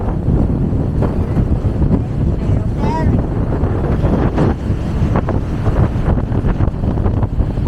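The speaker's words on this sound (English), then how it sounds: "Very windy up here." Strong, cold wind on a high second floor buffets the microphone in a steady, loud rumble throughout, with faint background noise.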